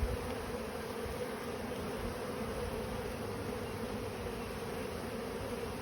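During a hive inspection in Australia, a dense swarm of honey bees gives off a continuous, even buzzing hum, steady and fairly close, with no talking.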